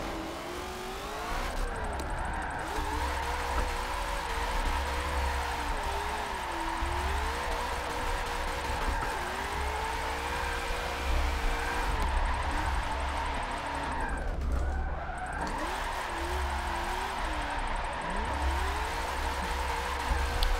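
Engine whine and wavering revs from cars drifting in Forza 7 with an FD car pack, played on a Logitech G920 wheel in tandem runs, a steady loud drone with pitch swoops and brief dips, no talking.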